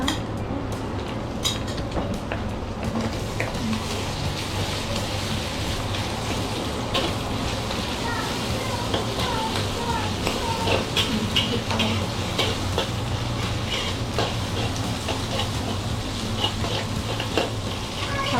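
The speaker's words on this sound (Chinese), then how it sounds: "所以你就可以放肉，这个碎肉放下去炒它哈" Minced meat stir-fried with dried shrimp in a wok, a dense continuous sizzle under a busy run of metal spatula scrapes and clinks against the pan, close and fairly loud, with no voices.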